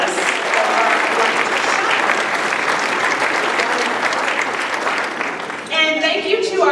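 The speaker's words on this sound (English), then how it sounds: "Please help me give them a round of applause" Loud, sustained applause from a crowd at a Hall of Fame gala, steady dense clapping filling the room for several seconds with a brief dip near the end before swelling again.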